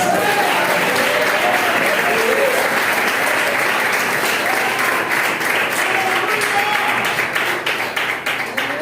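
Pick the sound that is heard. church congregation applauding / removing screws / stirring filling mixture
church congregation applauding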